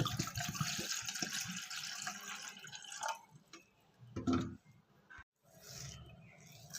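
Water is poured into a vessel to prepare a hair pack. There is a steady splashing pour at moderate loudness, then softer intermittent trickles and drips. Nobody speaks.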